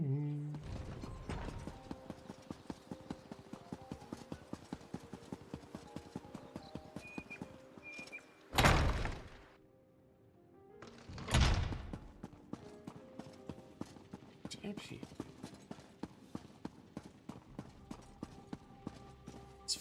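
A steed's hooves clip-clop in a steady, even rhythm during riding in Elder Scrolls Online, with crisp repeated clicks near the listener that are interrupted by two louder whooshing surges.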